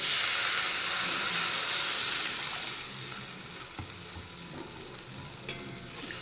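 Water poured into sizzling fried masala for a fish curry gives a loud hissing burst that eases into a steadier bubbling simmer, with a few spoon knocks and stirring scrapes nearby.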